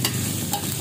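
Chayote sautéed with onion, garlic and ginger is stirred in a hot pan, giving a brief burst of scraping and steady sizzling frying up close.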